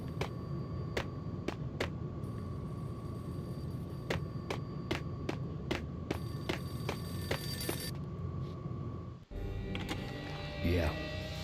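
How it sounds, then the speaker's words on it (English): Payphone ringing in the video game Max Payne: a steady series of sharp, evenly spaced bell rings over a low ambient hum, ending as a louder interior scene takes over. "The payphone started to ring"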